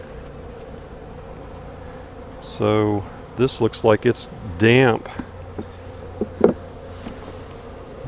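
Honey bees hum steadily at an opened hive, a low continuous buzz running under a man's speech, with a few louder passes from bees flying near.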